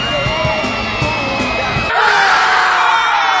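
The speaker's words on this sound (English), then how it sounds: "complete with a little girl's screaming sound effect added in the background" High-pitched screaming and yelling from a crowd fill the background, growing louder and denser partway through, with cheering mixed in.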